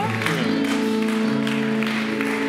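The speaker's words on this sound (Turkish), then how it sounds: "Alkışlıyoruz efendim Fikret Bey ile Ayşe Hanım." Steady applause from a crowd, continuous clapping over a droning, sustained musical tone.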